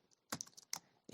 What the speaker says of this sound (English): If I click shift enter again